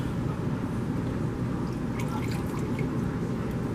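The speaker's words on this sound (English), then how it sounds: "I'm going to pour it out and turn it as I dump" Ceramic glaze poured out of a tea bowl into a bucket, a dense continuous liquid gush with scattered splashes and drips, close and steady throughout.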